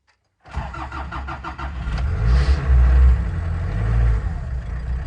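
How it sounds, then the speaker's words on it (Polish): A Honker 2.4 TD diesel engine, started with a push button on the side rather than a key, cranks briefly and catches, then settles into a loud, close, rough idle with some revving. "odpalanie już nie w stacyjce tylko na boku w przycisku"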